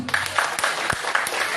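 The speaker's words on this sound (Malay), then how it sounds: "Satu tepukan untuk Presiden." Audience applause for Datuk Seri Zahid Hamidi, UMNO president, at a public gathering: steady mid-level clapping through the whole short stretch with no speech on top.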